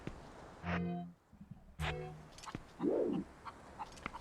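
Chicken clucking in Zelda: Twilight Princess, a few short game clucks and squawks standing alone against faint background music, fairly close and moderately loud.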